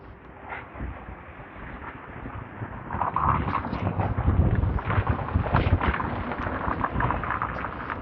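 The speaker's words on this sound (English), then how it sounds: "But it is quite windy today," Gusty outdoor wind in Blackpool buffets the microphone in a continuous low roar that swells louder partway through, with no talking.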